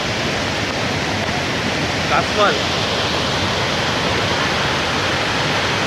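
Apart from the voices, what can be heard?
waterfall with heavy water flow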